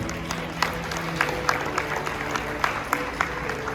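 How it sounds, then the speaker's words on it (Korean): Wedding guests in a hotel banquet hall applaud steadily, with soft, even clapping spread across the room under a faint background hum. "박수로 함께 해주시죠."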